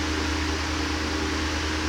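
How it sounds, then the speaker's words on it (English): An electric fan running in a room gives a steady, even whir with a low hum, constant and close throughout, with no talk. "That's my fan going on in my room."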